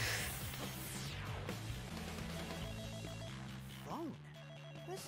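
A telephone rings in the video game Hi-Fi Rush, a repeating electronic bell pattern sounding over game music and effects, fairly prominent and steady for several seconds.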